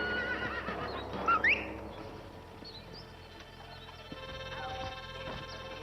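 A horse neighs in the Red Dead Redemption western video game, with a sharp rising whinny at mid-volume over game ambience and a low rumble, then distant faint calls.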